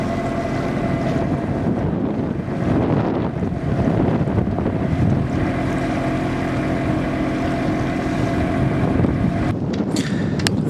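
Strong wind roars across a sailboat crossing the River Deben bar, a loud, continuous buffeting rush over the microphone with water and spray noise beneath and a few sharp gusts near the end.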